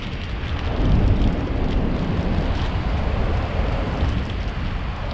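Strong wind roars steadily over a wild ocean off an island, a dense continuous rush with no voices.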